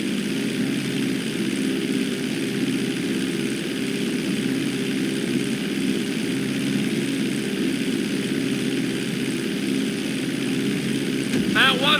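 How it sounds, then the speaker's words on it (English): A propeller airplane engine roaring steadily at full throttle during a takeoff run in the Grand Theft Auto V flight school, loud and continuous with a constant drone, and a voice speaking over it. "Hold the throttle all the way down to pick up speed, and pull back on the stick to take off."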